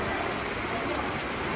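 Clear river water at Río Partido flows in a steady, broadband rush, close and continuous, with no other sounds over it.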